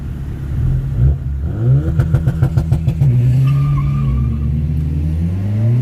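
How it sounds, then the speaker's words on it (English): Boosted cars revving hard and accelerating, with a rapid stuttering burst of exhaust pops and rising engine whine, loud and close, the engine note climbing and sustaining as they race. "I think all they're doing is turning around and racing back."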